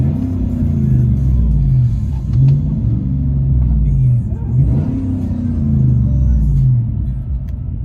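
A 2015 GMC Sierra All Terrain 5.3L V8 with Carven R-Series dual exhaust and an exhaust leak rumbles deeply, revving up and settling back several times in rising and falling waves, close and loud.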